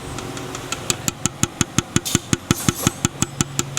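A car engine with a worn connecting rod, recently fitted with a new top set, idles with a sharp metallic knock repeating in a quick, even rhythm over the running engine.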